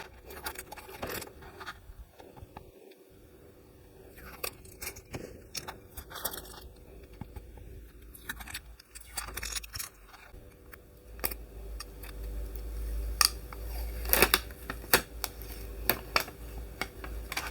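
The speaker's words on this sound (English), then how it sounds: "bear with me while I take all of this tape off here" Tape is peeled and pulled off a mug from a Cricut mug press in a series of sticky crackles, ticks and rips, quiet and irregular, growing busier and louder toward the end.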